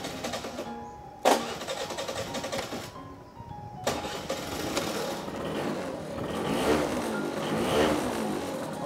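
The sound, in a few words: two-stroke three-wheeled motorbike engine starting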